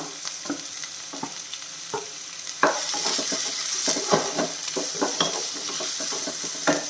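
Onions and vegetables stirred in a hot pan while frying for millet (samai) upma: steady sizzling with repeated scraping stir strokes, close and moderately loud, no voices.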